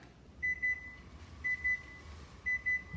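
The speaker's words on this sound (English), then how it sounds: "Okay, timer's going off." A kitchen timer goes off while garlic and cheese rolls bake, sounding three clear double beeps about a second apart in a quiet room.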